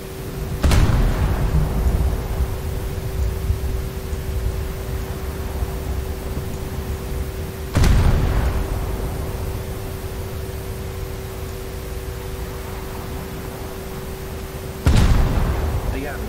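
Main guns of the IJN Hyuga battleship firing in War Thunder, three deep booming salvos spaced about seven seconds apart, each a sharp loud blast fading into a long rumble over steady engine and ocean noise.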